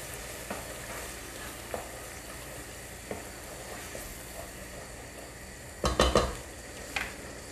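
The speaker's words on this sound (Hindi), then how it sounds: "हल्दी, सूखा धनिया, अच्छे से इसको मिक्स करेंगे" Turmeric and dried coriander masala stirred in a hot pan, a soft steady sizzle with occasional spoon scrapes and a brief cluster of louder metallic knocks near the end, close and fairly quiet.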